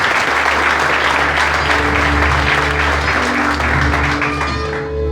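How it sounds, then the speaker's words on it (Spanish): Sustained audience applause in a hall for a seated mother, loud dense clapping with a low hum of crowd murmur beneath, tapering off slightly at the end. "Nací de una mujer maravillosa, para quien pido un aplauso, mi señora madre"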